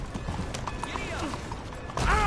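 Hooves clip-clop at a walking pace in Red Dead Redemption 2, a rhythmic series of soft thuds under game chatter and ambient sound, with a horse whinny or other noise swelling right at the end.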